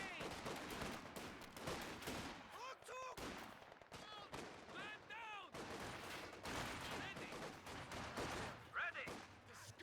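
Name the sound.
MG42 machine gun fire in video game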